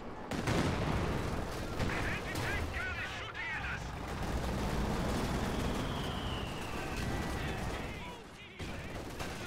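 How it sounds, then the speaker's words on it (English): Katyusha rocket launcher salvo in a multiplayer war game, a continuous barrage of rapid launches and distant booms layered with other gunfire, under a commentator talking throughout. "the Katusha's now firing"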